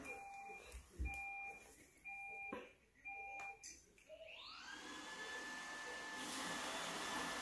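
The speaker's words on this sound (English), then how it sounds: "So, did you hear that beeping sound?" An iRobot Roomba 960 robot vacuum emits a repeated series of evenly spaced electronic beeps in pairs of tones, then its motor spins up into a steady whirring hum with a rising whine.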